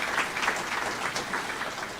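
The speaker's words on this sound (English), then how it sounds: "Please give a round of applause to our 3 speakers for County Commissioner" An audience at a candidate forum for the 2024 primary applauds three County Commissioner candidates, a continuous crowd clapping with a steady, fairly loud texture for the whole stretch.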